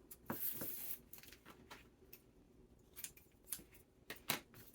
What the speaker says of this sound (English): I'll just cut off another piece.